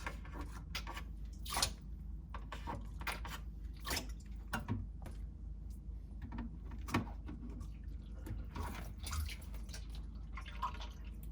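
Warm water drains down through a Samsung RF26HFENDSR/AA refrigerator clogged with ice buildup, giving faint, irregular drips and gurgling ticks over a low, steady hum.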